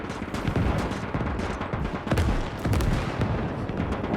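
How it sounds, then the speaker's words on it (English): Artillery shells landing in the Gates of Hell Mannerheim Line battle at Lähde, a dense continuous roll of booms and gunfire with heavy low rumble and repeated louder bursts throughout. "Lots of artillery landing here and there."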